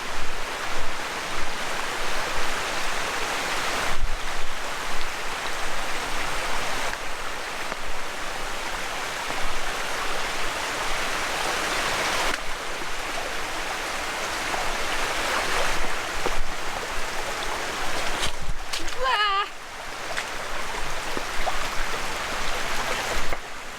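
A river in Gorges State Park rushes over rocks, a steady, close, broadband wash of water that runs unbroken, with a brief scuffling clatter near the end.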